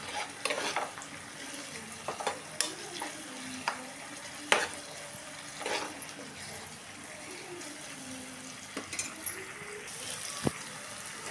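Eggplants frying in a pan with tomatoes for a village-style stuffed brinjal curry, a quiet sizzle and bubbling under repeated stirring and scraping, with a few sharp knocks and clatters, close by.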